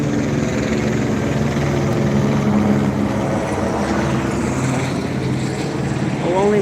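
Police helicopters circling overhead in San Pedro, California, their steady rotor and engine drone filling the air continuously without a break, with a faint passing voice in the background.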